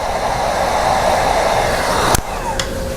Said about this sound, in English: grab your heat device and apply heat